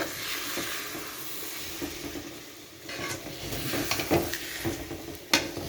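Tomato curry sizzles and hisses steadily in a pan as it is stirred and turned over, with soft scraping and a few clinks, close and fairly quiet.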